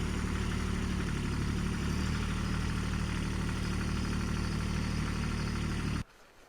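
A farm tractor's engine idles in a steady, low, continuous rumble with a constant hum for about six seconds, then cuts off abruptly, leaving faint background noise.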